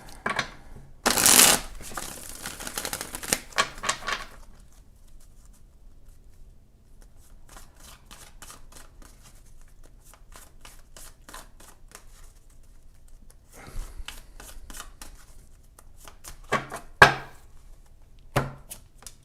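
Tarot cards are shuffled in several quick riffling bursts separated by pauses, crisp and close, with a few sharp taps between them.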